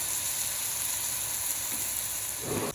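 Sago frying in a pan, a steady close hiss and sizzle with no voices.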